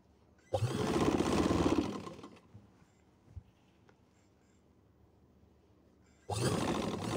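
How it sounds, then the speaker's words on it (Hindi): A sewing machine stitches a round collar stiffened with buckram, running in a loud, fast whirring burst, then stopping for a quiet pause with faint handling sounds before starting again. "अभी इसको मैं सिलाई लगाऊँगा, आपको दिखाऊँगा कि सिलाई मैं कैसे लगाता हूँ।"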